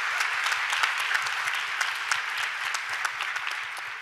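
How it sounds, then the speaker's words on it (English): An audience at a leadership symposium seminar claps steadily and fairly evenly throughout, a dense wash of handclaps heard at a moderate distance with no voices. "I think we owe a round of applause for whoever made that"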